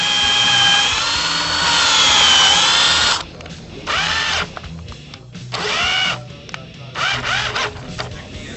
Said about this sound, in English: we're just going to drill a little bit and clean out the pilot hole each time